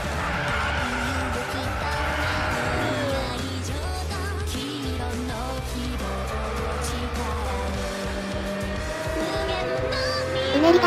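Pagani Zonda C12 engine in Gran Turismo 6, heard as a loud continuous racing engine with rising and falling revs and squealing tyres throughout, with no talk over it.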